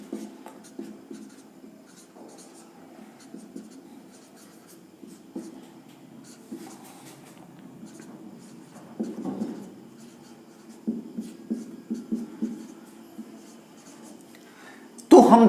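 Chalk or marker writing out a chemical reaction during an electrochemistry lecture: soft scratchy strokes in irregular bursts across the whole stretch, close and fairly quiet, ending with a louder knock.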